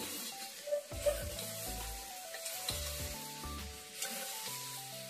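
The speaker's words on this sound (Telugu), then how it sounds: "సో ఆ టమాటా ముక్కలను అయితే యాడ్ చేస్తున్నాను. సో ఈ టమాటా ముక్కలను ఒక్కసారి కలిపేసుకొని" Tomato pieces sizzle and fry in a pan while being stirred for a bottle gourd curry with horse gram, a steady close crackle broken by several scraping stirs, with no talking.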